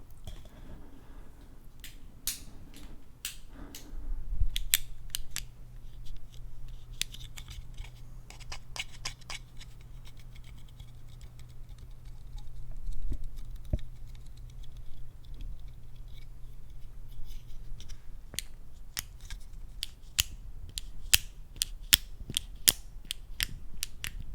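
Metal camera gear clamp handled up close, with a run of sharp clicks, ratcheting snaps and small mechanical taps spread through the stretch and a brief low hum in the middle, all quiet and without speech.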